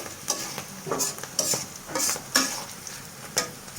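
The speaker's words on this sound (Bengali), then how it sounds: "কড়াইতে তেল দিয়ে পেঁয়াজ কাঁচামরিচ কুচি দিয়ে দিলাম একটু ভেজে নিয়ে" Chopped onion and green chili fry in oil in a wok, with a steady sizzle under repeated sharp scraping strokes of a spatula, heard close up.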